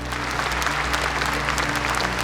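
Loud, dense audience applause for a speech by Xi Jinping at the CDAC, a continuous close wash of clapping without pause.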